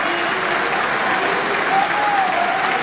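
Sustained applause fills the Turkish parliament chamber, a dense, steady wash of many hands clapping at once with a faint tonal voice rising near the end.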